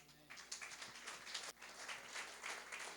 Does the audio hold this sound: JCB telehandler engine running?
no